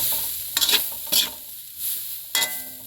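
A rat bait mixture is stir-roasted in a pan for a rice field, giving a few distinct scraping stirs over a low, steady sizzle, close and fairly loud.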